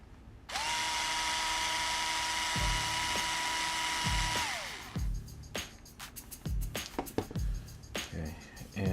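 Power driver backing a small retaining screw out of an RC car, a close whirring whine held for about four seconds that winds down, followed by clicks and light handling noises of small parts, with quiet talk.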